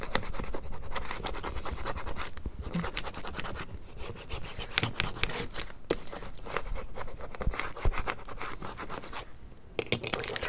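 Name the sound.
burnishing Cricut vinyl with transfer paper on canvas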